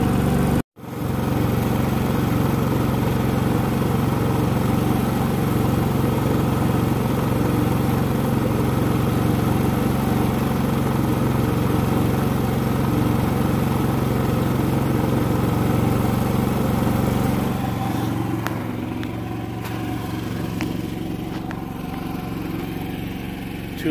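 A Predator 3500 portable generator runs steadily at a constant idle-like drone, close and continuous, with a sharp click at the start and a slight change in tone near the end.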